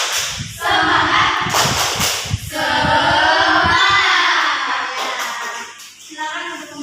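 A classroom of students performs a rhythmic clapping chant, sharp synchronized hand claps in short patterned bursts mixed with loud group chanting voices, fairly close and energetic.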